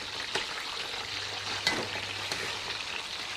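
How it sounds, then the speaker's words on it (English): Potato slices frying in olive oil, a steady broadband sizzle with a few soft pops and clicks, close and fairly quiet, with no talking. "I am simply frying some slices of potato, okay, in olive oil,"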